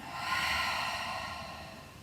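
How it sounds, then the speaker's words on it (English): A deep open-mouthed exhale during a gentle heart-opening yoga session, one long breathy rush of air lasting about two seconds, close and steady, fading slowly at the end with no talk over it. "exhale."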